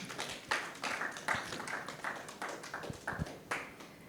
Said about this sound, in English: Let us once again give a round of applause